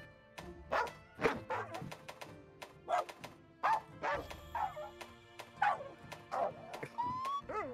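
A dog voice preset in a video game character creator, with adjustable pitch, gives about a dozen short barks and yips in an irregular series, close and clear over a quiet background.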